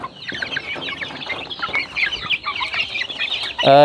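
Young chicks cluck and peep busily while eating fermented feed, a dense chatter of short calls close by, with a brief sharper burst of peeping at the very end.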